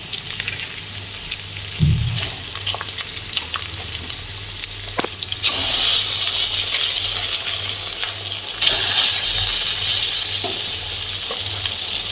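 Raw hilsa fish pieces and green chilli land in hot oil with fried onion and ginger, and a loud, steady sizzle rises and stays strong and close, with a few small clinks before the fish goes in.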